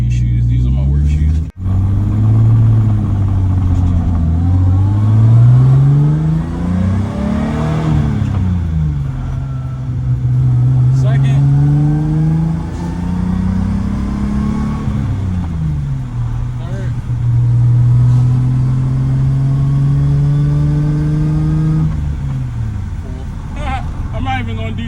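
A manually swapped Lexus SC300 engine revs up and down repeatedly, its loud, close drone climbing and falling in several sweeps with a brief cut near the start.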